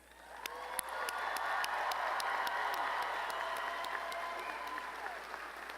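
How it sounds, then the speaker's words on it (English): An audience at a university engineering commencement applauds bachelor's degree graduates, steady crowd clapping rising quickly and holding at moderate volume, with some murmuring voices underneath. "Would those receiving bachelor's degrees please stand and receive our applause?"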